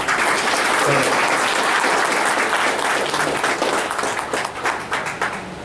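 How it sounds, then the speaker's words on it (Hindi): An audience at a Chhattisgarh news event claps steadily and loudly, the applause fading out toward the end with no talking. "मैं चाहूंगा आप लोग इसका जोरदार तालियों के साथ"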